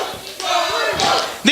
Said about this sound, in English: These fans are cheering.